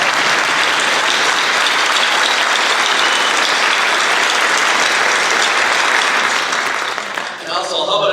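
A school auditorium crowd at a veterans tribute bursts into loud, sustained applause, dense clapping that carries on for several seconds before tapering off near the end.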